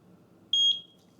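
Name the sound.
beep from Eufy video doorbell syncing with home base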